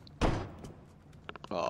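A door in Metro Exodus gives way under a shove. A heavy thud is followed by knocks and scraping, and a voice speaks over the clatter at the end.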